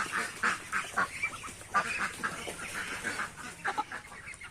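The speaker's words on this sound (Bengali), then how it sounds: "এই মোরগ দিয়ে হবে আজকে বিরিয়ানি, আমাদের বাড়ির দেশি মোরগ।" A large native domestic rooster calls at a rural home on a rainy day, its repeated honking, crowing squawks close and loud in uneven bursts, with other fowl-like cries mixed in and no talking.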